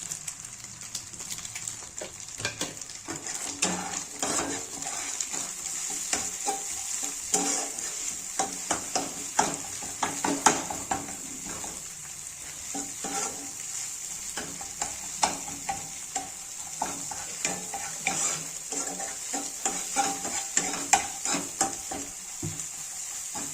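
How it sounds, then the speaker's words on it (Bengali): Egg with spices frying in a pan for a Bengali egg muri breakfast, a steady close sizzle with frequent scraping stirs throughout. "তো ভালো করে আমি ডিমটাকে ভেজে নেবো"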